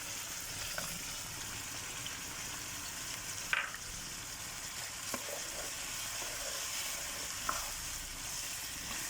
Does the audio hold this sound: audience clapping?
no